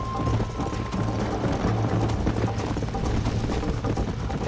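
Rhythmic clip-clop of horse hooves trotting continuously under a dense, busy game soundtrack with a low steady hum.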